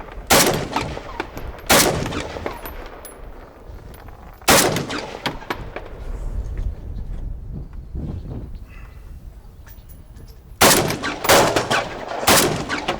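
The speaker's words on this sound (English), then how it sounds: "Shoot from here. Through the railing." Gunshots fired from behind cover through a railing ring out as loud, sharp cracks, one at a time at first and then a quick burst of several near the end, each with a ringing echo.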